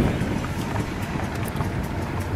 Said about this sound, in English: It's pretty windy in here, as you can hear.